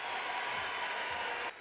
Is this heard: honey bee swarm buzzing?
no